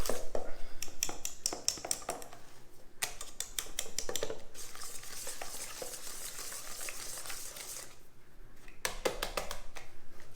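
Macaron batter with cold butter being mixed by hand in a bowl, rapid repeated scraping and clicking strokes in bursts, close and fairly quiet, with short pauses between runs.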